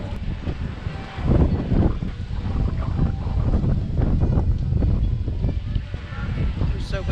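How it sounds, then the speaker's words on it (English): Steady gusty wind buffeting outdoors at the Epcot Flower and Garden Festival 2021, with a low rumbling roar throughout and people talking faintly beneath it. "It's so windy today."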